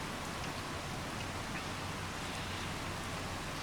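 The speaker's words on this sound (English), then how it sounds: "So the rain, one thing to know is if you're harvesting during the rain, your harvest is lowered." Rain in the video game Farming Simulator 25 falls as a dense, constant hiss of steady rainfall, even and unbroken throughout, with no voices over it.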